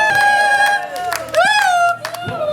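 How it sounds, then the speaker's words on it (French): A church congregation at a nuptial blessing acclaims Jesus with loud cheering. A high, sustained, gliding vocal cry rings over scattered hand claps. "Acclamons Jésus très fort"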